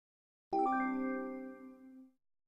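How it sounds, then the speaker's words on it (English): A single electronic chime from a gynecological device, signalling that cooling and flushing are complete: a bright, clean tone that rings out clearly and decays over about a second and a half in an otherwise silent setting. "A chime will indicate that cooling and flushing is complete"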